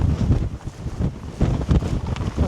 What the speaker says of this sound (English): Tad windy.